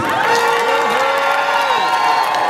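A large crowd at a CCM political rally in Kyela district cheers and applauds steadily, a dense roar with whoops and a sustained horn-like tone running through it, loud and continuous with no distinct speech.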